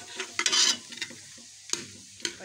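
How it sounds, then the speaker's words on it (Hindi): Cumin seeds frying in a pan for an aloo methi dish, with a soft steady sizzle and a few louder scraping stir strokes near the start and two brief clatters later, no voices. "देखिए ज़ीरा फ्राई हो रहा है"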